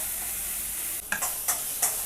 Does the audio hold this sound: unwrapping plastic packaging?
no